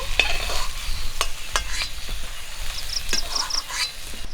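Pointed gourd (parwal) pieces fry in hot oil with a steady close sizzle, punctuated by sharp clinks of a utensil against the pan and a few brief high squeaks.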